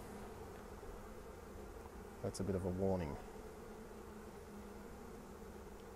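Honey bees hum steadily around a backyard beehive in December, a soft continuous drone with one louder buzz passing close by for a moment, while a person speaks quietly nearby.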